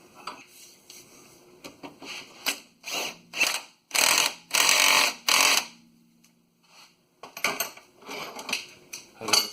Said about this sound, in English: Alright, let's tighten up the other one.